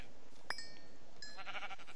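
A Minecraft sheep gives a short, faint bleat, then a second wavering bleat follows a moment later against a quiet background.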